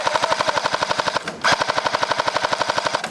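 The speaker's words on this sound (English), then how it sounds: "I think I just got shot at." Airsoft guns fire in rapid automatic bursts during an outdoor skirmish in Virginia, loud, close and steadily rhythmic with a brief pause midway, with no talking over them.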